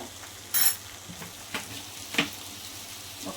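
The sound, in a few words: soya chunk biryani masala being fried and stirred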